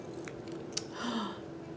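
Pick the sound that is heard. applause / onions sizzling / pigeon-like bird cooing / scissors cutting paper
scissors cutting paper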